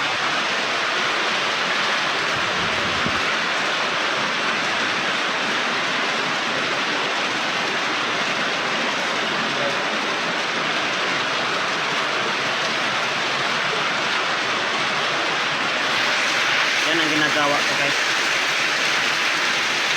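Steady rain falls throughout as a dense, constant hiss, with a person speaking briefly over it near the end.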